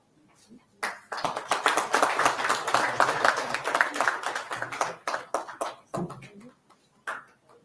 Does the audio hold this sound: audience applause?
yes